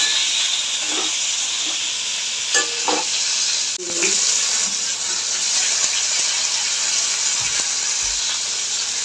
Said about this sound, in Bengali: এবার একটু নাড়বো টমেটোটা একটু নরম হবে